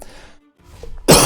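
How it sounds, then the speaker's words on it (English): One sharp, loud cough from a person at a computer during a League of Legends game. It bursts out after a near-silent pause, with faint sounds just before it. "Maybe I take the time to edit out all my coughing."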